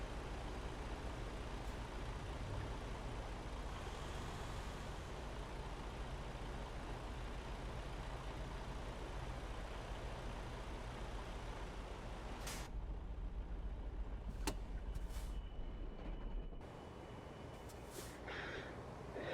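Freightliner Cascadia truck in a driving game manoeuvring to park, a steady low engine rumble throughout with sharp hissing air-brake bursts near the end as it settles.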